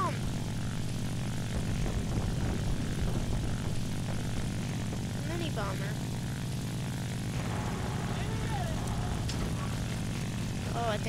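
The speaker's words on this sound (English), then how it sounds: "Bomber." Bomber aircraft in the combat video game War Thunder, its propeller engines giving a steady, continuous droning roar throughout, with a voice speaking over it.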